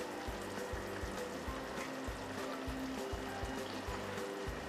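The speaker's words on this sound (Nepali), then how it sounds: "र 2 ठुलो चम्चा जति पानी पनि यसमा म राख्दैछु" Water poured into a pan of cooked tomato and green pea pickle, a soft steady trickle close by over a low, repeating background hum.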